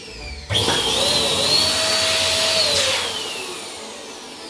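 Balloon being inflated to 7 inches with a pump, a loud electric inflator starting abruptly and whining steadily for a few seconds, with a slight pitch change as the balloon fills, then easing off; no speech.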